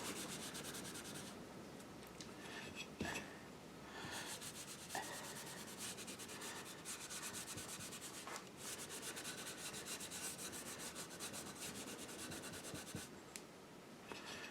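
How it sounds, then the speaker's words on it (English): Fine steel wool loaded with paste wax is rubbed over the surface of a box, giving a close, continuous scratchy swishing with short pauses between strokes. No voices. "I've got some wax and some fine steel wool, and I'm going to go around and buff the surface with paste wax"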